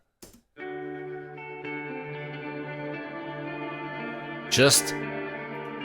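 A clean electric guitar riff panned to the left in a metal track plays steady, ringing sustained notes, entering after a brief voice at the start, with a short louder burst near the end.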